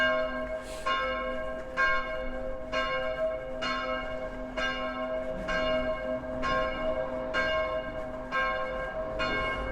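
Church bells ringing on a Saturday on Ryesgade in Copenhagen, Denmark, at a steady, even pace, about one strike per second, each tone lingering and overlapping the next, heard from some distance.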